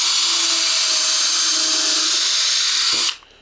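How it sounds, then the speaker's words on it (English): A power drill bores a hole in a wooden bluebird nesting box, a loud, steady high whine running for about three seconds before it suddenly stops and winds down. "drill another hole."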